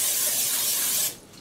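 Grease sprayed from an aerosol can onto a bread loaf pan: one continuous loud hiss for about a second, then it cuts off to quiet room tone.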